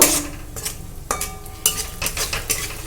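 A spice paste with a splash of water is sautéed in a pan, uneven bursts of sizzling and the scrape and clatter of a spatula against metal, close and fairly loud.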